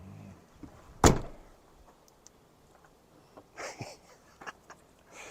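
A single sharp click or clunk from an ONNAIS electronic lock on an RV door, close and brief, followed by quieter shuffling and faint movement sounds outdoors.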